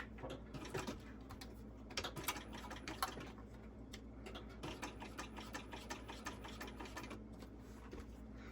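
A sewing machine top stitching fabric at an eighth-inch seam with a long stitch length, giving a quiet, fast ticking run of needle strokes that pauses briefly now and then, faint and without talk.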